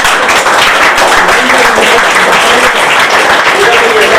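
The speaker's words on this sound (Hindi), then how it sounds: "तालियां जोर से।" An audience at a community welcome event for a women's savings group claps loudly and steadily, with voices and chatter running beneath the clapping throughout.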